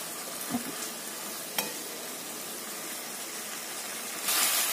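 Onions and spices sauté in a pan for a fish dish, a soft, continuous sizzle with a couple of faint utensil clinks and a louder hiss of frying near the end.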